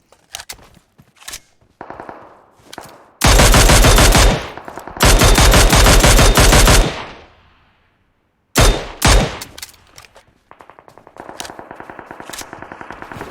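Automatic gunfire in the mobile battle royale game PUBG Mobile: two long, loud, sustained bursts, then a short volley and a run of rapid, evenly spaced shots, all close and dominating, with no talking.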